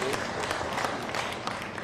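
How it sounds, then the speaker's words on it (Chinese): A crowd at a political campaign rally breaks into dense, continuous applause, with many hands clapping together at a steady loud level and voices mixed into the noise. "我们掌声鼓励一下"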